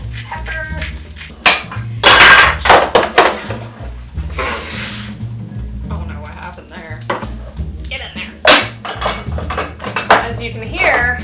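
Jars, bottles and tins clatter and knock as someone rummages through a cluttered kitchen spice cabinet, in loud, irregular bursts of clinking glass and scraping over a constant low hum, with no talking.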